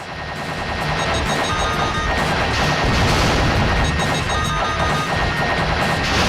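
Dense, continuous gunfire and explosions from the Macross XV-X 2 video game, loud and relentless throughout, with rapid overlapping shots layered over rumbling blasts and a droning engine tone.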